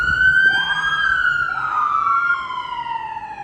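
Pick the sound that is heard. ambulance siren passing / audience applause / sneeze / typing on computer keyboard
ambulance siren passing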